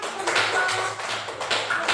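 A classroom group claps together in uneven bursts, close and fairly loud hand claps that swell and ease over two seconds with no talking.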